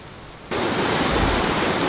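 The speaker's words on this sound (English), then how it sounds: "This feels nice, hearing the surf." Pacific Ocean surf breaking on a cove beach, a steady broadband wash that swells in abruptly after a quiet half-second and then roars on evenly, close and loud, with no voices.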